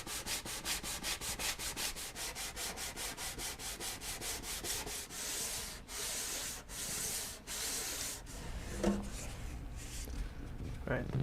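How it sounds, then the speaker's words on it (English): Rhythmic back-and-forth scratching of sandpaper on wood during hand sanding for surface prep, fast regular strokes up close, slowing into longer rubs toward the end. "let's get to sanding."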